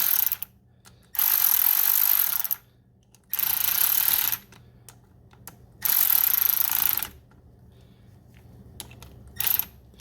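A ratchet clicks in quick bursts while tightening the bolts of a Dodge Dakota battery terminal connector, several second-long runs of close, rapid clicks separated by pauses and small metallic handling sounds.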